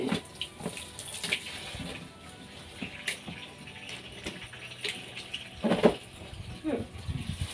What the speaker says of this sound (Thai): เติมน้ำเข้าไปนะครับ โอ้โห น้ำไหล